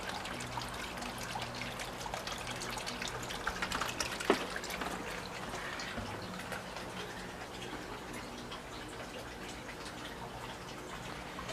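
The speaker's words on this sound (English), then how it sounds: "This is the water feature that you've been hearing through the whole video." Steady trickling water from a garden water feature runs continuously, a soft splashing flow with a small splash partway through, no voices.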